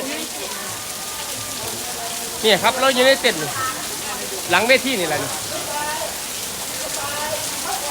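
Rain pours on a tent set up behind a stage, a dense steady patter that runs throughout while people talk loudly close by.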